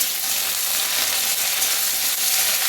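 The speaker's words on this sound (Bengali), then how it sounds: "পেঁয়াজ দিয়ে দিলাম, একটা কাঁচা লঙ্কাও দিয়ে দিলাম, আর ওই কারি পাতাটা যে ছিল কারি পাতাটাও দিয়ে দিলাম।" Onions, green chili and curry leaves fry in a pan with a constant, close sizzling hiss that stays steady and unbroken, with no voices.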